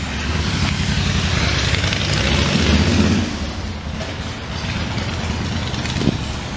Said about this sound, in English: that beautiful Harley Davidson sound